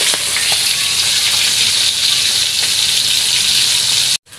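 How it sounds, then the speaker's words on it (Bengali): Fish sizzling steadily in hot oil, a loud, dense crackle that holds evenly for several seconds before cutting off abruptly near the end. "এটা মাছগুলো ভাজতেছি।"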